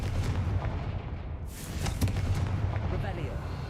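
Booming, crackling explosion from a Confringo spell in a Harry Potter-style video game, bursting sharply near 1.5 and 2 seconds over a dense rumbling battle din, with a voice calling out spells throughout.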